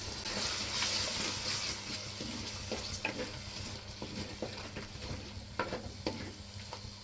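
Masala for a Rajahmundry crab curry fries steadily in a pan with tomato paste added. A constant close sizzle runs under scattered sharp scrapes and clinks of stirring.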